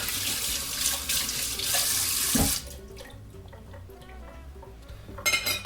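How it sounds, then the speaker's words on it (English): Running tap water rinses a fork used in raw egg at a kitchen sink, a loud steady splashing stream that stops abruptly, leaving faint clinks and small handling sounds, then a brief gush. "just wash off your fork"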